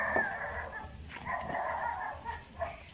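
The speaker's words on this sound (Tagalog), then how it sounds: "Aso oh" A dog gives a few short, high yips and whimpering barks, fairly quiet and close by.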